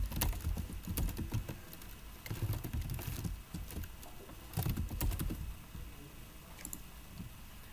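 Rapid clicking of keys on a computer keyboard as a login username and password are entered, steady bursts of close typing with short pauses between.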